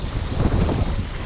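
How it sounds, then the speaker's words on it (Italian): Wind gusts over a fishing boat at sea, a steady rough rushing that buffets the microphone for a moment, with no talking. "Però è aumentato il vento."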